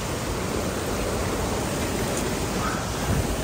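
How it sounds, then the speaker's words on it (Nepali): Clear stream water rushing downhill near Agate Falls in Michigan, a steady, dense broadband hiss of flowing water, close and loud with no pauses. "सङ्लो खोला यसरी बगेर आएको छ माथिदेखि सर कुदो गएको छ"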